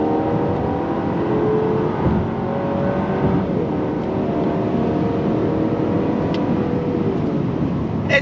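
A 2025 Buick Enclave with an 8-speed automatic pulls hard under throttle, a loud, steady engine drone with smooth rising tones as the gears shift, recorded from inside the cabin.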